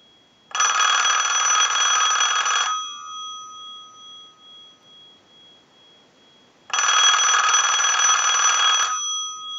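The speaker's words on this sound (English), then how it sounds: "send a ring cycle like you were getting a call" Two bursts of a Western Electric Rotary Princess telephone bell ringing, each about two seconds of loud, even electromechanical ringing separated by a pause, with a faint hum lingering after each ring.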